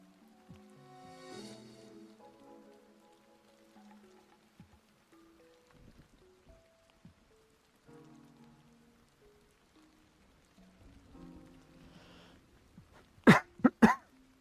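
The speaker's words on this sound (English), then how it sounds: "I'm sorry about the coughing." A person with a sore throat coughs loudly two or three times in quick succession near the end, after a long quiet stretch of soft game music during a 9 Kings stream.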